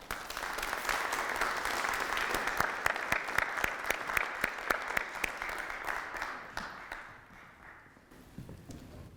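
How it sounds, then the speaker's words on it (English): Audience applause for a guest speaker at a lunchtime talk, dense steady clapping from a room full of people that holds strong for most of the stretch, then thins and tapers near the end. "Let's have a warm round of applause for Art."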